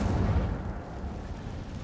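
An Incendio fire spell cast in Hogwarts Legacy, a loud low burst with a rumbling, crackling whoosh that starts strong and slowly trails off over about two seconds, with no voices.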